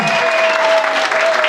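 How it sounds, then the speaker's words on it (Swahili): An audience at a Baringo cultural launch event gives a dense, sustained round of applause welcoming the county assembly speaker, loud and close throughout. "Wapi makofi yake?"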